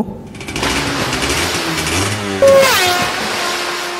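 A motorcycle engine revs and rumbles up close, its pitch rising and falling, with a sharper burst of revving partway through.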